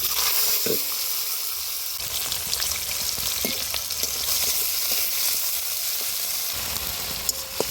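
Whole cumin, fennel and nigella seeds with chopped onion and tomato fry in hot oil, a steady dense sizzle running close and loud throughout, with a few brief stirring knocks and spatters.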